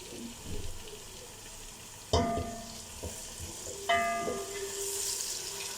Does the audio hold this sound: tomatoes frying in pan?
yes